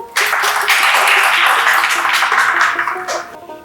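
An audience applauding loudly for a team at a game show, a dense burst of clapping that starts abruptly, holds strong for about three seconds, then tapers off.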